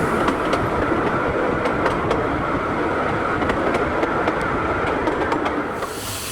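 A half-scale copy of an Indian ZB-class locomotive runs along the railway, with a continuous rumbling roll and steady clickety-clack of wheels over rail joints that eases near the end.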